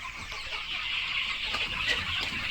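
Chickens on a farm cluck and chatter in a dense, continuous flock murmur, fairly close, with no talk over it.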